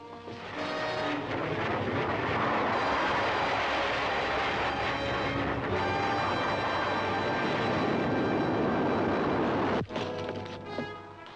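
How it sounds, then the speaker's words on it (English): Aircraft approaching as a TV show sound effect, a loud, dense engine roar that holds steady for about ten seconds before breaking off abruptly and trailing into fainter noise. "They just pick up an unidentified aircraft coming in again."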